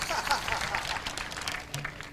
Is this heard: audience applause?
yes